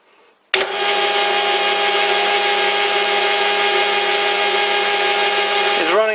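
Lathe taking a light skim cut on a steel internal turning tool holder, spinning slightly wobbly: a steady machining whine with tonal harmonics starts abruptly and runs continuously, ending with a brief pitch sweep as it slows.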